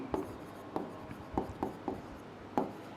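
Pen or marker writing out an example sentence on a board or page during a vocabulary lesson, a series of short scratchy strokes at irregular intervals, close and fairly clear with no talk over it.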